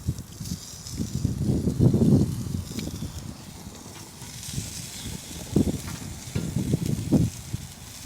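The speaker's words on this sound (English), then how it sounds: "You guys can hear that sizzle." Food sizzles on a grill up close, quiet crackling hiss rising and falling in several bursts with faint clatter between, no voices.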